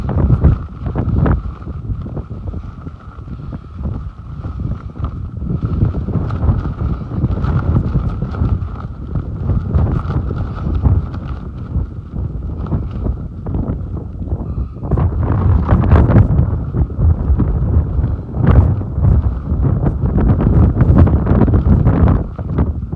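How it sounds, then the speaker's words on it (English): Strong wind on Dartmoor during a trail run roars steadily across the microphone, with gusty low rumbling that swells louder in the second half; no voices. "Very windy here, hardly hear a thing"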